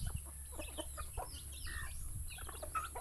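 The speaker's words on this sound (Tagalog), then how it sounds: "Dito po tayo sa mga sisiw." Small chicks on a farm chirp and peep in overlapping bursts, a busy steady chorus from several birds close by, with low rumbling background noise underneath.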